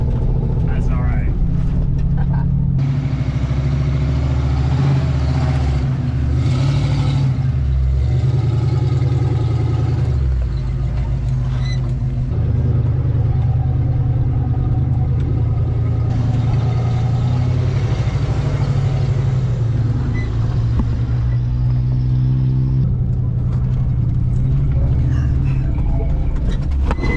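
A 1970s-style Ford Bronco with a 302 engine drives over a bumpy road, its low steady engine drone continuous and loud throughout, with knocks and rattles from the rough surface and people talking over it.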